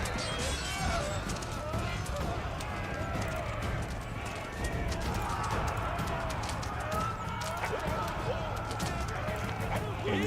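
Mounted horse archers in Age of Empires 4 gallop with a rapid, steady patter of hoofbeats amid a busy battle din, continuous and moderately loud while a voice talks over it.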